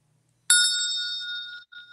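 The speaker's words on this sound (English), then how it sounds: "That bell is loud." A loud bell struck once, a sharp bright clang that rings on with a sustained shimmering tone before fading and cutting off, alone without talk.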